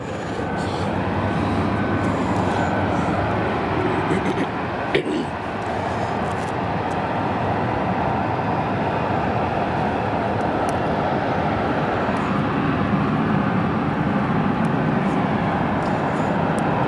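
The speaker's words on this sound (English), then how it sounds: "There's a rare visitor, Delta 757-300 going to Detroit." A Delta Boeing 757-300 airliner rolls past at Phoenix Sky Harbor airport, its steady jet engine roar loud and sustained throughout, with a brief thump partway through.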